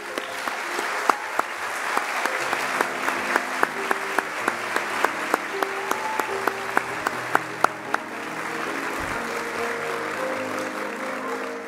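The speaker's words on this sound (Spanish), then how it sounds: "Pedimos un aplauso para los estudiantes que se graduaron con reconocimiento por su excelente trayectoria académica y profesional." Sustained applause fills a university graduation ceremony hall for students graduating with honors, a steady, moderately distant clatter of many hands, with sharp tonal pings and low hum running underneath.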